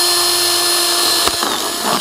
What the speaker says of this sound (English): So you're gonna wanna drill a hole right smack in the middle